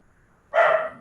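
A single short dog bark from outside, loud and sharp, rising out of near-silence and fading quickly, with no talk.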